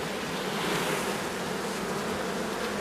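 Honeybees swarm around open hive frames, giving a dense, continuous buzzing hum that stays steady and fairly loud throughout with no voices.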